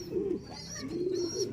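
Pigeons in a racing or breeding loft coo twice in low, rolling phrases, close and clear, with a faint high chirp above them and no talk.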